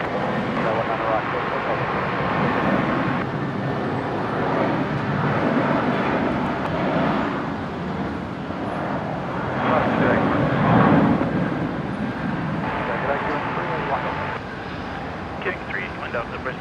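A jet takes off from runway 19 right at Brisbane International Airport, a broad steady engine roar swelling and easing over several seconds with people talking over it, plus tower radio chatter.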